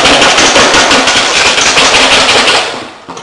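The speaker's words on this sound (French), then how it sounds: "il faut faire le sucre tout doucement et continuer à fouetter énergiquement" Whisk beating chocolate cake batter for a fondant au chocolat as sugar is gradually added, a loud, fast, continuous rattling scrape close up, steady then tapering off at the end.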